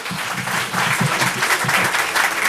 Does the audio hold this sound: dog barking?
no